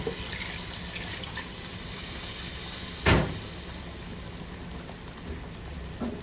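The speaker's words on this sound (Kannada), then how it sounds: "ಈಗ ನಾನು ಸ್ವಲ್ಪ ನೀರು ಸೇರಿಸ್ತಿದ್ದೇನೆ" Steady hissing sizzle as water meets a hot pan of green chilli chicken, with one brief louder splash midway, close and fairly quiet.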